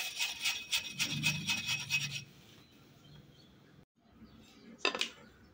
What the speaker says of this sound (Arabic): وأنا كنغربل هاد الدقيق راه كنغربلو ونعاود نغربلو